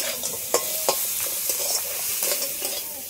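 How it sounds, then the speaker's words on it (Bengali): A spoon turns crab and fried eggplant in a frying pan, scraping in quick repeated strokes over a constant hiss of sizzling oil, close and without any talk. "এই কাঁকড়ার মধ্যে দিয়ে দিচ্ছি ভেজে রাখা সেই বেগুনগুলো। সবগুলো একসাথে একটু হালকা করে নেড়ে নিলাম।"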